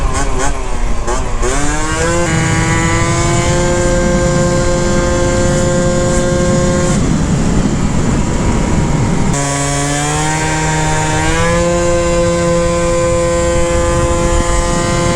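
A Honda Elite (Dio AF16) scooter with an upgraded CVT revs hard and close, its engine pitch climbing and holding high across two long pulls with a dip between them.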